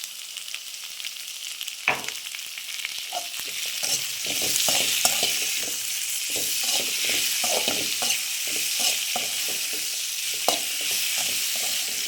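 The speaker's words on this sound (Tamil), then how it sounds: "கொஞ்சம் இப்படி வதங்கட்டும்" Ingredients sauté in a hot pan with salt added, giving a steady broadband sizzle with scattered scraping and stirring knocks throughout, close and continuous with no voice.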